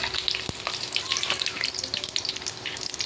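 Bengali five-spice and bay leaves frying in hot oil for khichuri, a steady close sizzle with crackling pops and spatter running throughout.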